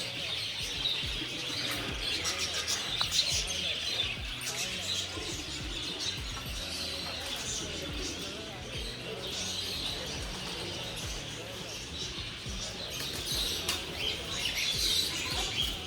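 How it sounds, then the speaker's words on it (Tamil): Lovebirds chirping among many caged birds at a pigeon farm, a dense, continuous wash of shrill tweets and calls at close range, with a voice talking through part of it. "Love birds."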